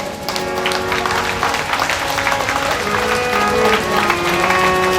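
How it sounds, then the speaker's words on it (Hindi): A crowd at a Hindi religious discourse about Lord Mahakal claps together, a dense, steady patter of many hands sustained throughout with faint murmuring underneath. "ताली बजाना ही है तो जम के बजाइए।"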